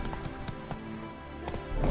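Horse hooves clip-clopping at a steady trot in The Witcher 3: Wild Hunt, a regular rhythm of near hoof strikes over a constant game backdrop, without talk.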